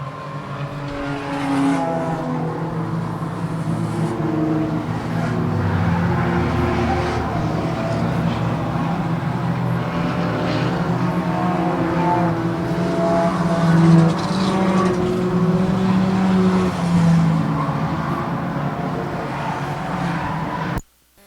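Enduro race cars roaring down the back straight of an oval track, several engines revving loud and close together as the pack passes, with an announcer talking over the sustained engine roar.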